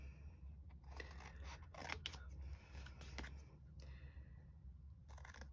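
Paper being cut with scissors at a mixed media craft table, a few short crisp snips and rustles spaced out over steady low background hum, fairly quiet and close.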